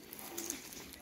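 Caged pigeons at a bird loft give soft, low cooing in a brief, quiet burst amid light background noise, no talk.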